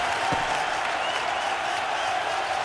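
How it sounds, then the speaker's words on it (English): A crowd at a college basketball game in NCAA March Madness 08 roars and applauds in a steady, dense wash of cheering, with a brief knock near the start. "Listen to this crowd. Oh, there's all kinds of people standing and cheering and going wacky."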